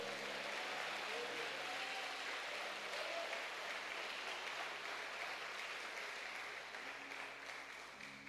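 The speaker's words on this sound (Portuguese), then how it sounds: "Você pode aplaudir e glorificar ao Senhor?" A church congregation applauds in a steady, even wash of clapping that thins slightly toward the end, heard from some distance and at low level, with a faint hum underneath.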